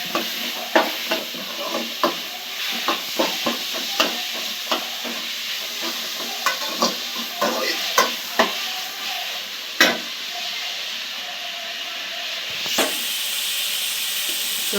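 Spiced paste for North Karnataka-style ogganne mirchi fries in a pan under a steady sizzle, punctuated by frequent scraping stirs of a spatula at irregular intervals, close and clear with no talk.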